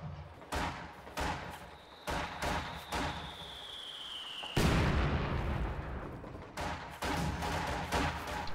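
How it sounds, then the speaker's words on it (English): Maxim machine gun in a battlefield video game fires on an enemy mortar, with repeated loud gunfire bursts and booming impacts, a descending whistle, then a heavy explosion followed by more shots. "Maxim moves right up to fire on that mortar"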